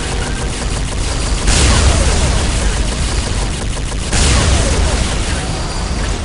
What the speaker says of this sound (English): Weapon turrets!